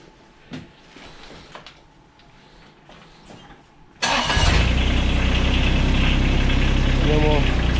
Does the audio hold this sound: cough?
no